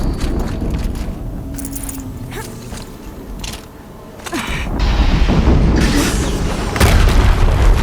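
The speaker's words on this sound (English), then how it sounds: "Another explosion." Deep booming explosions go off in the video game Horizon Zero Dawn, with mechanical creaks and clanks between them; the heaviest blasts land in the second half, loud and close.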